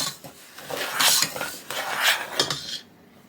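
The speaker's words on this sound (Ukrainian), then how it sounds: "Висипаємо все до ємності і добре перемішуємо." Dry granular salt and sugar, one kilogram of salt with half a kilo of sugar, stirred together in a container to make a cure for lightly salted salmon: rough scraping and rustling in repeated close strokes, alone without talk.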